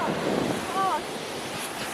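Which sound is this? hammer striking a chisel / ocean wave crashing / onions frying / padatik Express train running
ocean wave crashing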